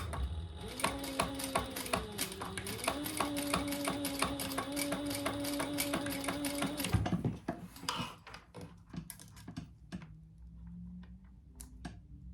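A sewing machine runs a continuous row of stitching on a crossbody bag, a steady mechanical whir for several seconds, followed by scattered clicks and handling noises as the machine stops.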